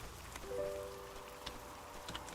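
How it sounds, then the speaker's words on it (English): Soft in-game rain in Moonlight Peaks, a faint, even patter of drops on surfaces with a brief tonal chime near the start, no voices. "even though it's raining, we still have to magically water"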